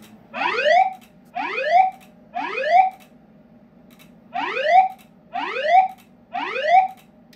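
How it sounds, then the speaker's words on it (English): A building voice-evacuation fire alarm sounds six rising electronic whoop tones in two groups of three, loud and close, separated by a brief pause, over a low steady hum. "The fire alarm has been activated in the building."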